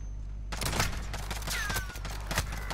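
Gunfire in a Call of Duty Modern Warfare gunfight tournament: a burst of sharp, close shots cracks in quick irregular succession, several rounds over a couple of seconds against a low background hum.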